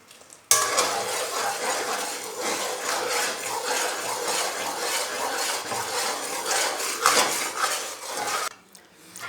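A spoon scrapes and clatters steadily against a cooking pan while a jaggery mixture is stirred and cooked, a busy, close metallic stirring sound that stops abruptly near the end.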